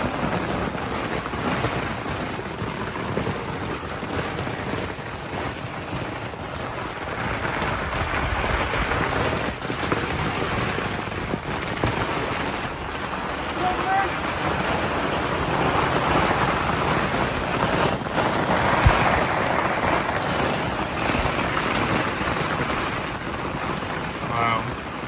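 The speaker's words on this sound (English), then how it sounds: "it's actually hailing" A dense, steady rattling patter of hail pelts down loudly on a canal walk, with gusts of wind and a voice faintly talking beneath.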